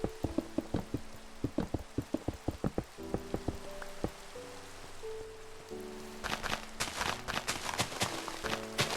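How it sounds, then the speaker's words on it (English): Rain in Minecraft patters steadily under the game's other sounds, with sharp footstep-like taps and brief tonal blips; the whole scene is fairly faint. "Is it raining? Oh yeah, still raining."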